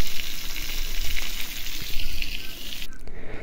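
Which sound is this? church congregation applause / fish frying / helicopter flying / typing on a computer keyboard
fish frying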